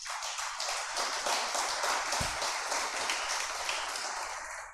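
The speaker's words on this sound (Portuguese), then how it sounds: "Aplauda a Jesus." A church congregation applauding, a dense steady wash of many hands clapping together at moderate distance, sustained evenly throughout without voices over it.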